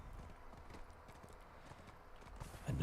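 Horse hooves clip-clop in Black Desert, a quick rhythmic patter of steps at fairly low volume with a louder thump near the end and no talk.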